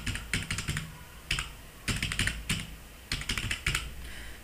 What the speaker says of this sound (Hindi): क्रोम पे अपने को टाइप करना है